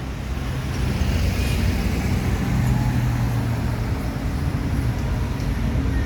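A Miyor Parlente intercity bus drives in along a road in Indonesia, a steady low engine rumble and road noise close by throughout.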